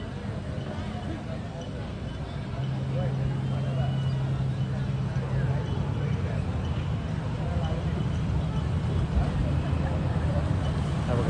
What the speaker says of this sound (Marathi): गाड्या आल्या आता बोटीतून